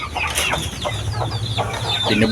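Young Shamo chickens cluck close by in a series of short, sharp calls, with rustling between the bursts.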